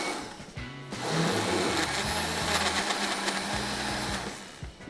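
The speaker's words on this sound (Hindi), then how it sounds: "कोई 10 सेकंड 20 सेकंड चलाई मशीन, फिर बंद कर दें, फिर चलाए, फिर बंद कर दें" Electric blender grinding mixed fruit with ice cream for a fruit cocktail, a loud, steady motor whir that starts after a brief pause and runs continuously before cutting off.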